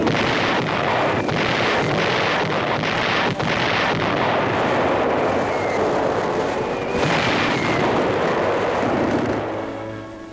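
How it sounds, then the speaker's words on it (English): American artillery firing on advancing German forces in a 1944 wartime newsreel, a dense sustained roar of guns and blasts with sharp bursts around the two, three and seven second marks, loud throughout and fading at the end. "Yank artillery opens up on the advancing Germans"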